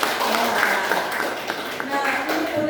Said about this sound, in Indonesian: Alhamdulillah, tepuk tangan dulu.